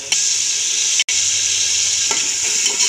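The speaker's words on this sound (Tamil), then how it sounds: "வெங்காயம் தக்காளி நல்லா வதங்கிடுச்சு." Onion and tomato sautéing in a pan for fish biryani, a steady close sizzle of frying with faint stirring scrapes, briefly cut to silence partway through.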